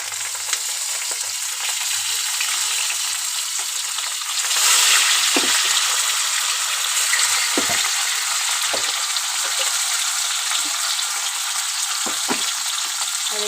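Fish frying in hot oil in a wok, with black cumin seeds already tempered in the oil: a steady, loud sizzle throughout, swelling briefly around the middle, with a few faint clicks of utensils and no talk.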